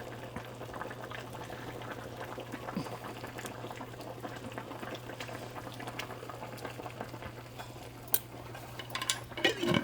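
Salmon fish curry, Telangana-style pulusu, simmers and boils in a pot with a faint, steady bubbling over a low hum, and a few light clinks come near the end.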